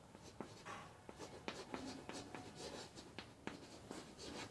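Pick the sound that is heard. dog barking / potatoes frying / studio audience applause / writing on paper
writing on paper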